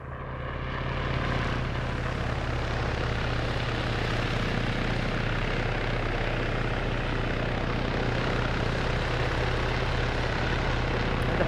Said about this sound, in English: But we've got now the helicopter coming in, potentially to deploy the Special Forces on the rooftop